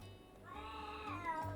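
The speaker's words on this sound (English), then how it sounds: "my cat is meowing, so if you hear it, sorry" A pet cat meows close by in a home, a drawn-out harmonic cry rising and falling over about a second, with a faint second call at the end and steady low background hum.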